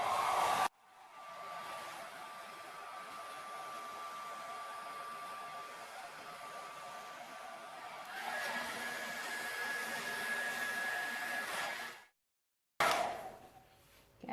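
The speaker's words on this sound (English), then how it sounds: "Okay, hairdryer, let's try not to mess myself up." A hair dryer blows over a fresh resin coat, giving a steady whirring roar that changes pitch partway through, then cuts off briefly and starts again, with no talking.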